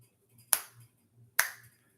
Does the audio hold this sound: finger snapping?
yes